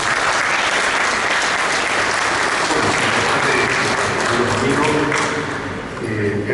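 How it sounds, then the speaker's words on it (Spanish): Loud, sustained audience applause welcoming a speaker at an archaeology lecture, dense clapping filling the whole stretch with only a slight dip near the end. "Recibámoslo por favor con un fuerte aplauso."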